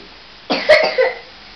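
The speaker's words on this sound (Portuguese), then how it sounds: "Ai, tosse." A single close, sharp cough with two quick bursts, standing alone against a quiet background.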